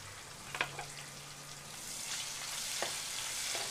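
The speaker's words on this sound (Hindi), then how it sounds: "अभी डाल देंगे इसमें हम ये प्याज और इसको हल्का सा फ्राई करेंगे" Onions frying lightly in a pan for aloo matar sabzi, a soft steady sizzle with a couple of brief utensil clinks, the hiss swelling slightly toward the end.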